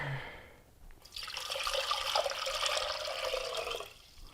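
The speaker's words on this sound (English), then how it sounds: "Pour in the water." A quart of water poured into a pot with salt for pickling gherkins, a rushing, splashing pour that starts after a brief quiet moment and runs steadily for about three seconds before stopping.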